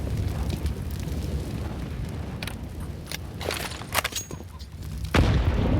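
An HE grenade blast on the Inferno map during a pro Counter-Strike match between FURIA and Cloud9, a dense roar of gunfire and game noise ending in a sudden loud burst near the close.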